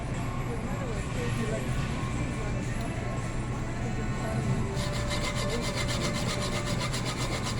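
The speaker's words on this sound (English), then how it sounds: "This is a solid concrete cinder block." A kitchen knife sawing through a solid concrete cinder block, a steady, coarse grinding rasp that continues without pause, with a person talking over it.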